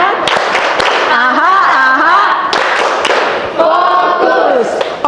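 Children in a classroom play the 'tepuk fokus' ice-breaking clap game, with sharp hand claps landing in rhythm under loud group chanting.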